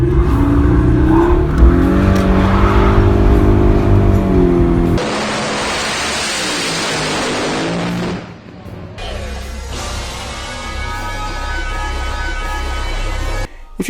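An Audi A6 C6 with a 3.2L V6 is driven hard, its engine droning and rising through revs under loud road and wind noise, with sudden broadband rushes partway through.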